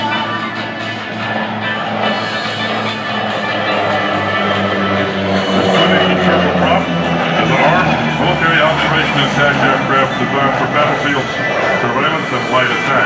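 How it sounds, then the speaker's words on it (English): Grumman OV-1 Mohawk military aircraft at an airshow, a steady loud engine drone with broadband roar filling the whole stretch, a public-address voice talking over it. "Back in this aircraft. The Mohawk"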